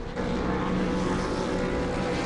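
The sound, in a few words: race car engines revving at start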